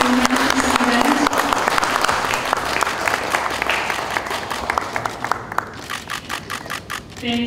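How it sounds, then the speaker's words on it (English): A round of applause rings out from the audience at a formal host country agreement signing ceremony: dense, steady clapping with camera shutter clicks mixed in, tapering to a few scattered claps near the end. "please give a big round of applause to the members of the event"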